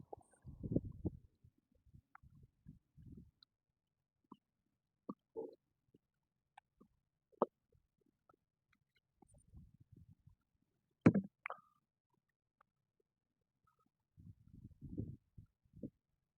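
Fresh engine oil for a Triumph Sprint RS 955i motorcycle gurgles and glugs down through a funnel into the engine in sparse, irregular low bursts separated by near silence, close and fairly quiet.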